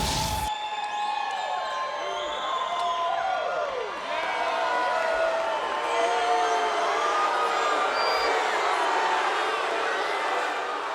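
Crowd of wrestling fans packed into the Nitro Grill for an autograph session: a continuous roar of voices, cheers and whoops, loud and steady throughout, with a brief sharp thump at the very start.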